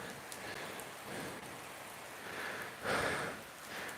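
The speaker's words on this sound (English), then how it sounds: "you can probably hear the rain" Rain falls steadily outdoors as a soft broadband hiss with gentle swells in loudness, moderately close and unbroken, with no voices.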